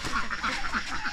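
A duck quacks in a quick run of about seven close, nasal calls in steady rhythm.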